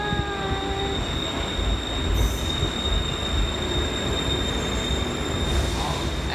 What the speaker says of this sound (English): Hey, that's a train.